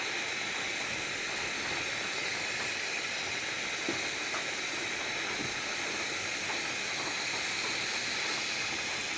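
Ground turmeric, cumin and other spices sauté with beef and potatoes in a pan, producing an unbroken, dense hissing sizzle at a constant level throughout.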